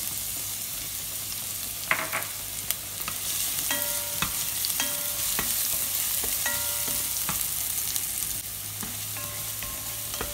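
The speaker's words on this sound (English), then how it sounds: "I-brownies muna natin yung garlic para mabango." Garlic sautéing in hot cooking oil in a pan, the base for minced pork, with a steady close sizzle and repeated spatula scrapes and taps against the pan, no voices.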